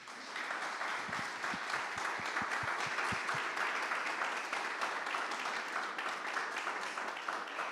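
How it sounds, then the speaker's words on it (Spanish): A church congregation gives sustained, dense applause, a steady wash of many hands clapping together at even loudness for several seconds, with a few louder low thumps early on and no speech over it. "Denle un fuerte aplauso, Señor."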